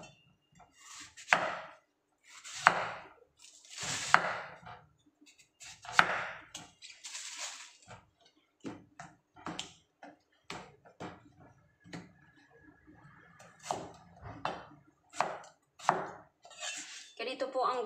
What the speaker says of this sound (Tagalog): Hiwain natin ang radish.